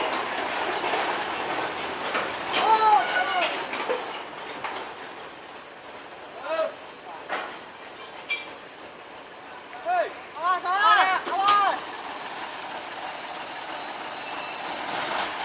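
D14 locomotive pushing sugar-mill lorries along a rail track at Jatiroto, with clattering wagon wheels and metallic squeals and clanks rising and fading under distant voices.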